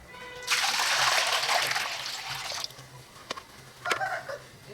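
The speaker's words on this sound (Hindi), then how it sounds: "तो अब मैं इसके ऊपर ये एक बड़ा सा बर्तन रख लेता हूँ और इसमें पानी डाल के देखता हूँ।" Water poured into a large pot sitting on a homemade wood pellet stove built from an old 16-litre oil tin, a loud broadband splashing pour lasting about two seconds, followed by a few soft drips and clinks.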